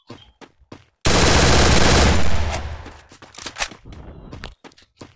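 Loud sustained burst of rapid video-game gunfire, close and dense, that cuts in abruptly, then trails off into scattered shots and clatter with no talk.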